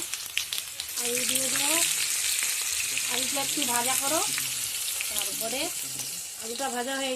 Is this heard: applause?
no